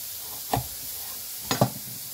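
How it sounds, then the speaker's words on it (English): Two crisp knife cuts through broccoli stems on a board, about a second apart, each a short sharp crunch, close and fairly faint against quiet kitchen background. "I want to use these broccoli stems. I'm cutting them nice and thin."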